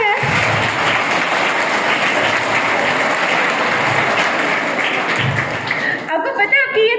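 Sustained audience applause fills a hall after a patriotic speech at a KSVM event in Patna, Bihar, steady and dense for about six seconds before tapering into scattered claps.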